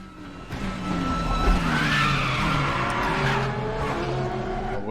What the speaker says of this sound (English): The wheels locked up then.